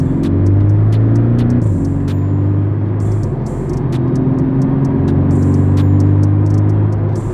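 A Porsche Cayman 718 S engine revs hard under acceleration, a loud, close, continuous rumble rising and falling through the gears with no talk over it.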